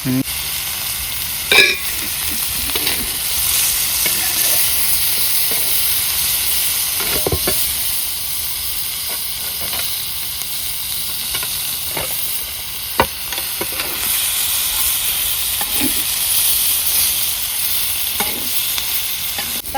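Food being stir-fried in a pan: a continuous sizzle with repeated scraping and clacking of the spatula at irregular intervals, close and fairly loud throughout.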